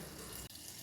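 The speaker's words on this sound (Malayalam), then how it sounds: "ഇതാ മിക്സിയുടെ ജാറിൽ കുറച്ച് വെള്ളം ഒഴിച്ചിട്ട് വരാം" A running tap pours water steadily into a mixer-grinder jar, a constant soft rush broken by one brief dip.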